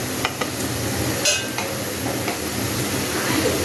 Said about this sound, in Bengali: পেঁয়াজটা একটু লাল লাল করে ভেজে নিতে হবে।